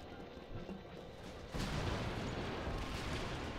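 A grenade blast in Star Wars Battlefront II (2005) hits about halfway through as a sudden broad boom, then a loud rumbling roar that holds steady to the end over a lower bed of game noise.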